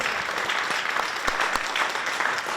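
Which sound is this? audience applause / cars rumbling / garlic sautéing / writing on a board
audience applause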